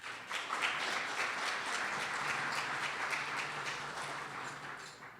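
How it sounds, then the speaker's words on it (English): Audience applause following a civic forum on youth and violence, a steady wash of many hands clapping at moderate distance, sustained evenly for several seconds with no talk over it. "Please join me in a warm round of applause for all of them."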